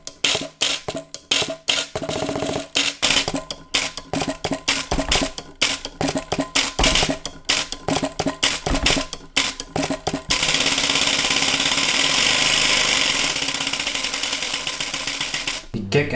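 A homemade drum kit built from recycled food cans, with a flattened-metal hi-hat, mounted on a guitar, jams in a fast rhythmic patter of clattering hits. It gives way to a denser, continuous metallic rattle and wash near the end.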